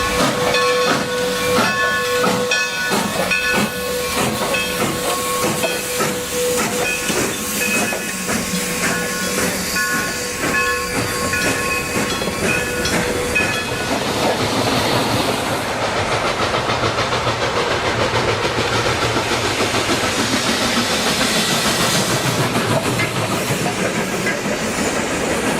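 Southern Pacific 2475 steam locomotive on the Niles Canyon Railway hisses loudly and rumbles along steadily, with a sustained whistle-like tone in the first half before broad hissing takes over.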